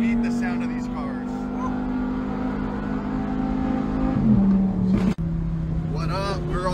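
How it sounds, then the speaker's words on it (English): Exotic sports car engines hum and rev steadily up close, with a pitch shift near the end, while a voice talks over the engine noise. "you can't beat the sound of these cars"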